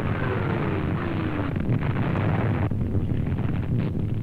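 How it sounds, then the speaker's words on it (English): Canadian artillery barrage during the 1943 Battle of San Vito: a dense, continuous roar of distant gunfire and rumbling blasts with a steady windy wash, no voices. "amidst the din of a Canadian artillery barrage, they watch the Battle of San Vito in progress"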